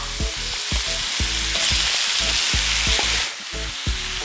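Pork pieces fry in a pan with softened onions for menudo, giving a loud continuous sizzle punctuated by rhythmic spatula clacks and stirring scrapes, with no talk.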